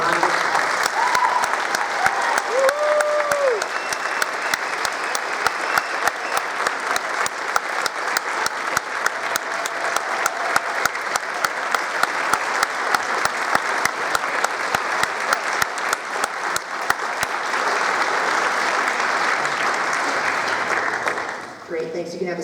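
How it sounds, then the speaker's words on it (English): Sustained, loud applause from a concert audience at a Lincoln-Way West spring instrumental concert and awards, clapping steadily for award recipients for about twenty seconds before tapering off at the end. "Let's give all of our award recipients a round of applause."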